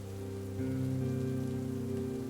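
Steady rain falls in a forest, a dense, continuous patter on surfaces with a low rumbling undertone, with no voices.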